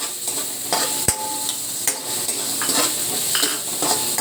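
Chopped white onion sizzles in a hot pan with garlic and ginger while being stirred for a Filipino fish sinigang, a steady close frying hiss broken by light scrapes and one sharp utensil tap.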